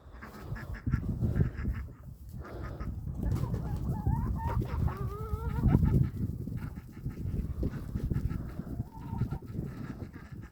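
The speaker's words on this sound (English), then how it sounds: "But watch what happens when the chickens get out." Chickens cluck and squawk continuously nearby, with a few higher calls rising above the busy flock noise, no talking.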